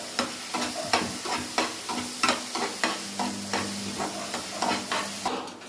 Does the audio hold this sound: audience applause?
no